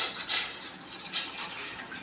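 Water pours into a pot on a stove to make gulab jamun syrup, a short soft splashing stream with a few brighter surges, close and alone.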